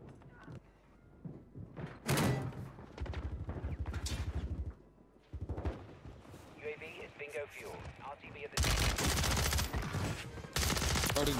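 Bursts of OTS-9 fire in Rebirth Island, a Call of Duty video game, come in rapid automatic strings with sharp thuds and door-like slams, loud and up close, with a player talking over parts of it.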